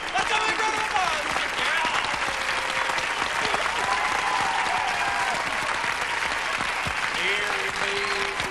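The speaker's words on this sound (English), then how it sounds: "Let's have a big round of applause." A studio audience gives sustained, loud applause for guest Jerry Hall on a 1987 television talk show, with dense clapping and some crowd voices underneath.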